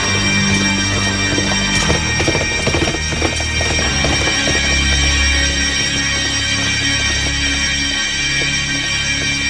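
A horse ridden along by a rider, hooves clip-clopping in a steady, close rhythm with an occasional whinny, over a constant background of music or ambient hiss.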